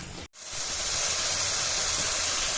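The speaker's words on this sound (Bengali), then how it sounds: "এবার এই পেস্টটা দিয়ে খুব ভালোভাবে কষাতে হবে যতক্ষণ না ওই পুরো তেলটা ওপরে উঠে আসছে" Spice paste frying and being stirred in hot oil for a Bengali bata fish curry with potato and brinjal, giving a steady, loud broadband sizzle that runs continuously after a brief dip near the start.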